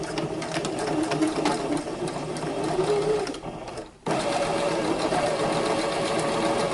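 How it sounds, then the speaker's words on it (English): A sewing machine stitches across the top and bottom of the pleats on a fabric mask. Its steady, rapid mechanical whir runs up close, stops briefly, then picks straight back up. "So now, I stitch them at the top and the bottom just to hold them in place."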